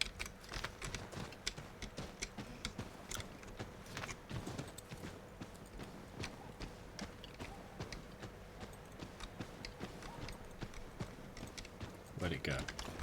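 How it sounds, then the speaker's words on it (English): Horse hooves clip-clop in Assassin's Creed III as a steady, fairly quick rhythm of faint hoofbeats, heard under a player's intermittent talking. "Come on, horse, you can do it."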